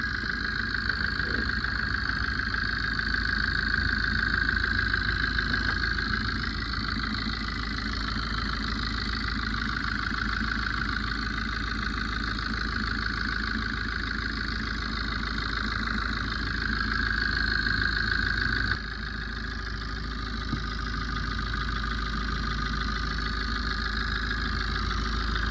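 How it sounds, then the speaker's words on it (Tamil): A Maruti Suzuki Swift Dzire with a cut head gasket between two cylinders and a black smoke problem idles steadily after starting, its engine a close, constant hum with a faint whine throughout. "இந்த ஷிஃப்ட் டிசைரோட இன்ஜினை வந்து பார்த்தீங்கன்னா நான் ஸ்டார்ட் பண்ணிட்டேன்."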